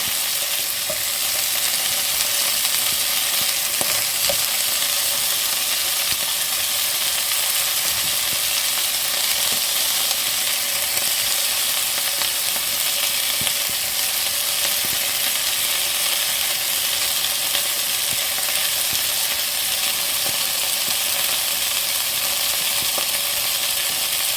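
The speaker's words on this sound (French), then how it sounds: "vous mettez vos oignons à revenir" Onions fry in a pan for a blanquette de veau with mustard, a steady close, loud sizzle and crackle running throughout with occasional light stirring scrapes and no talk.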